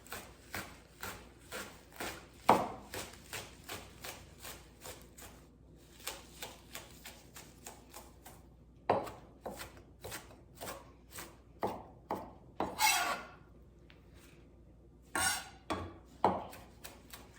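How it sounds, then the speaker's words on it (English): A knife thinly slicing bunched kale on a cutting board for a blueberry kale salad, a run of quick, crisp chops that comes in bursts with short pauses between them, close and clear. "Just bunch up a little bit and thinly slice."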